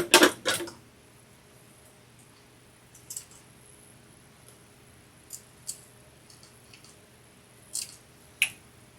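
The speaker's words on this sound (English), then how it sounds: "I'm going to cut all of this extra threads off to get those out of the way" Scissors snipping loose threads off a dress, a few soft, close clicks and snips scattered across a quiet room, with a louder cluster at the start.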